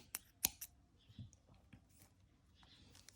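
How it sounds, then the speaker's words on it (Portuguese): Small scissors snip through amigurumi yarn, giving a couple of sharp close clicks followed by quieter handling and rustling sounds at low volume. "E daí, eu posso cortar o meu fio"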